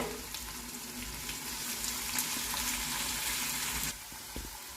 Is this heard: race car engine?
no